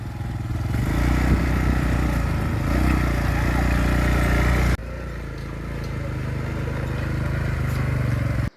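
An ATV engine droning loudly and steadily during a ride at a resort, its rumble close and continuous with a brief drop partway, then carrying on until cutting off at the end.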